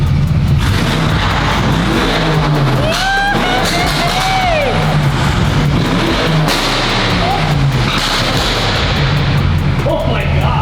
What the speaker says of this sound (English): have you ever heard a Bentley sound like this before?